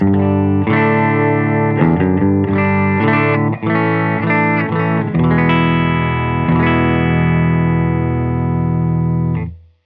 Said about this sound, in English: Silktone amp sounds like this.